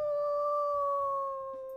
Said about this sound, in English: Let's listen to our primary howl.